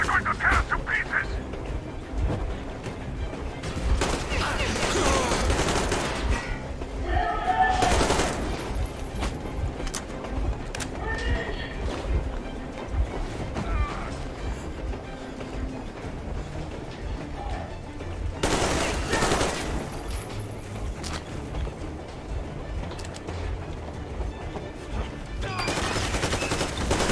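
Gunfire in the Metro Exodus Moscow level comes as several loud bursts of automatic fire rising over constant battle noise, spaced across the stretch with shouted voices in between.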